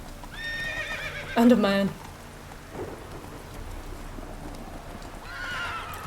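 Geralt's horse Roach from The Witcher 3 neighs in a short sharp whinny over clip-clopping hooves and rainfall, with someone speaking briefly.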